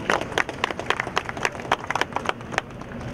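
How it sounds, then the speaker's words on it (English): A modest audience at an award ceremony gives a short round of applause, individual claps distinct and uneven at moderate loudness, sparse rather than a dense roar. "A big round of applause, ladies and gentlemen."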